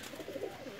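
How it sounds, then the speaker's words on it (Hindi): High flyer pigeons cooing, a brief soft throaty coo close by, heard alone with no talking. "ये जनाब हमारे हाई फ्लायर कबूतर हैं"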